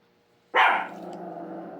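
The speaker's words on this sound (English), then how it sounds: "She's barking because the bell went off in the dryer and she's thinking something's over there" A single sharp dog bark rings out up close after silence, followed by a lingering low rumble or growl.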